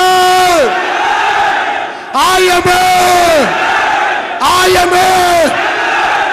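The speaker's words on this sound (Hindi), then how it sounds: "चिल्ला के 3 बार हम अपने आप से कमिटमेंट करेंगे" A crowd at a motivational gathering shouts a loud commitment chant in unison three times, each burst of massed voices lasting about a second or two, close and powerful.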